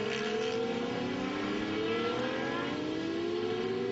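Suzuki 1000-engined race cars lap the Pembrey circuit at a modern classics race meeting, a loud, continuous high-revving engine howl with pitch sweeping upward as the cars accelerate past.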